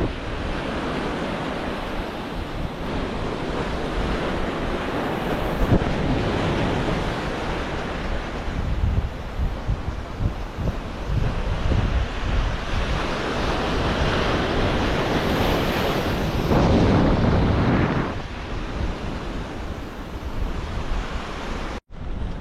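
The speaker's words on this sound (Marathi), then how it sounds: "लाटा खूप मोठ्या आहेत." Large waves roll and break steadily on a rocky evening shoreline where fishing takes place, a dense, loud, continuous surf roar mixed with gusting wind rumbling across the microphone.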